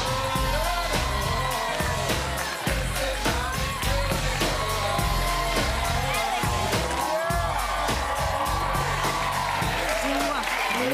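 A studio audience on the talk show Live with Kelly and Ryan applauds guest Catherine Zeta Jones, with loud, continuous clapping and cheering mixed with band music.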